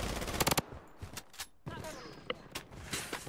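Gunfire in the video game Blood Strike comes as scattered short bursts and single shots, moderately loud at the start and then fainter and intermittent, with faint voices in the background.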